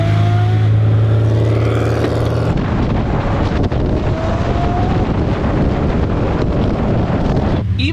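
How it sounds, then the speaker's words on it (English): Modified Subaru with a big turbo following on a mountain pass, its engine a droning roar heard from inside another car amid heavy wind buffeting, with a brief revving surge. "That's the Subaru, if you can hear it. It's just following us around."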